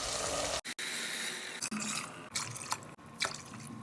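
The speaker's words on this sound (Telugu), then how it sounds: "సో ఇప్పుడు దీంట్లోకి నీళ్ళు పోసుకున్నాం" Water poured from a glass into a pot of rice for chicken donne biryani, a brief splashing pour followed by soft trickles and drips, quiet and close.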